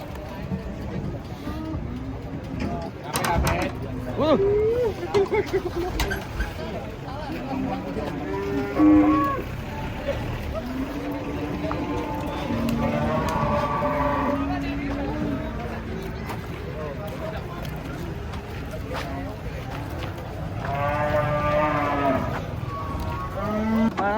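Cattle moo repeatedly, long low calls rising over one another amid chatter and background noise, some close and loud, others farther off.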